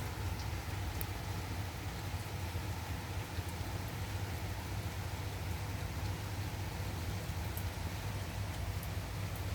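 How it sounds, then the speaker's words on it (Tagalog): Heavy rain falling on a cold, rainy day in Kuwait, a steady dense hiss that carries on unbroken with no voices, along with a low rumble that could be passing traffic. "Ayan, malakas ng ulan."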